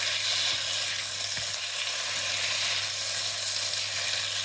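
Char kway teow noodles stir-fried in a hot pan with light soy sauce, a dense continuous sizzle up close with stirring scrapes and a low steady hum beneath, no talking.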